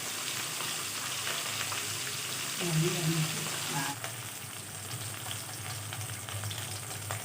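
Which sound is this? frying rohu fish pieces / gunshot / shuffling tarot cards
frying rohu fish pieces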